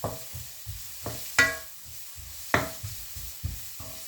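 Food being stir-fried in a pan on a home stove, with a steady sizzle under repeated scraping strokes of the utensil at an uneven rhythm, close and fairly loud, no talking.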